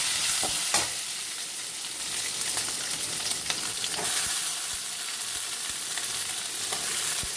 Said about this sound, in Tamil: வரமிளகாய் வதங்கிடுச்சு. இப்போ சின்ன வெங்காயத்தை போடுவோம்.